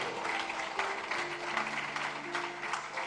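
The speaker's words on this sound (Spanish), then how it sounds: "Puede darle un aplauso al Señor si así lo desea." A church congregation claps during a Spanish-language sermon on the baptism of the Holy Spirit, a dense, moderately quiet wash of applause with sustained music tones running underneath.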